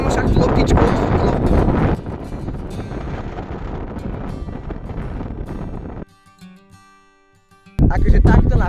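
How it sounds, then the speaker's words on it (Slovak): Extreme wind gusting across an open field, a loud roaring buffet for about six seconds that drops to near silence briefly before the blast returns. "Akože takto na poli fakt extrémne fúka"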